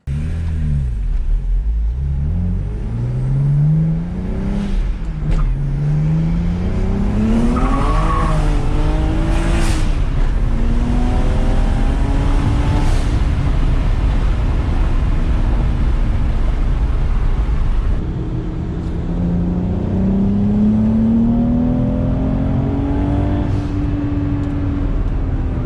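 A BMW 335i out on a test drive after a new engine hose was fitted, engine rising in pitch through repeated hard pulls and gear changes, loud and close throughout with a steady rumble and no talking.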